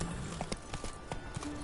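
Horse hooves clip-clop in the video game The Witcher, a quick run of faint, light hoof strikes over a steady background hum.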